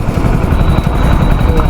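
A BMW G 310 GS touring motorcycle's engine thrums close by, a steady pulsing rumble over a brief stretch, with someone talking over it.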